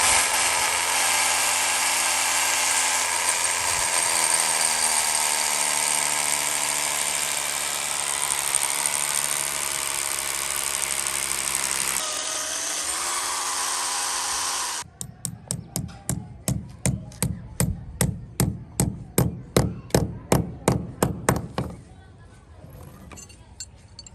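Electric drill machine boring holes for rawl bolts while installing a solar panel fitting stand at home; a long steady high whine runs first, then turns into a rapid series of loud rhythmic hammering bursts near the end.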